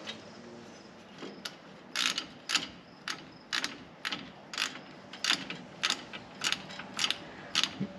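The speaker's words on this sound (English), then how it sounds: "it's not bad when you can get a ratchet in there" A hand ratchet clicks in quick bursts while turning wheel bearing bolts on a 1997 Ram 1500 4WD, the short rhythmic pawl ratcheting close and fairly quiet in a workshop.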